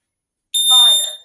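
An ADT SafeWatch Pro 3000 fire alarm system, triggered by a Simplex pull station, sounds a single loud electronic alarm tone that starts abruptly after a silent pause, rises and then fades quickly.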